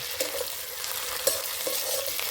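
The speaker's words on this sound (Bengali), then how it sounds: "আদা রসুন দিয়ে কিছুক্ষণ নেড়ে নেব" Ginger-garlic paste stirred and fried with onions for a Bengali jackfruit dish with mutton fat: a steady close sizzle under a few sharp spoon scrapes against the pan, no voices.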